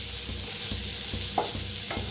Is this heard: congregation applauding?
no